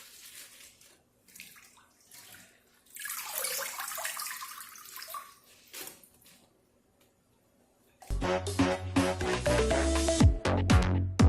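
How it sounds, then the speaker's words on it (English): Spinach tipped into a colander drains noisily, water splashing and pouring for a few seconds amid quieter handling sounds, before music begins. "I'm going to take my spinach into a colander and let it drain."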